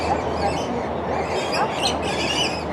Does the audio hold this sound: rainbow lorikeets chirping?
yes